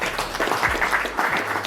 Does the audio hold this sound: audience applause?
yes